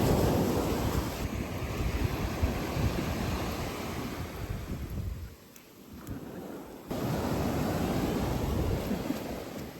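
Ocean waves break and wash continuously on a North Carolina beach, a loud, close roar of surf with a short lull in the middle before the next wave surges in.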